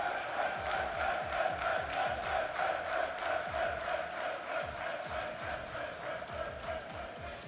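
A large esports tournament crowd roars continuously with cheering and shouting, a dense sustained wash of voices that holds steady throughout at a moderate level.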